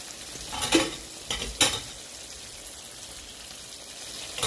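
Stirring in a pot of simmering curry as egg bag tubes for Guyanese egg bag curry go in, with a steady low sizzle and a few louder scraping stir strokes near the start.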